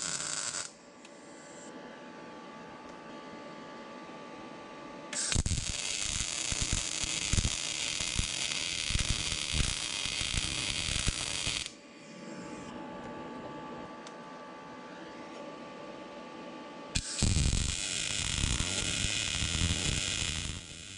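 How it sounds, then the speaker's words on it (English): MIG welder running weld passes on steel coupons, heard as two long bursts of steady crackling, buzzing arc close up with quiet hum between them and no talk. "we'll tack these coupons together, we'll set the machine to the recommended settings, and run a couple of passes"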